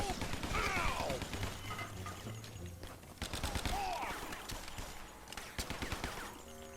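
A Tommy gun fires in rapid bursts in a side-scrolling video game, two sharp clattering volleys separated by a brief lull, amid game effects and a voice.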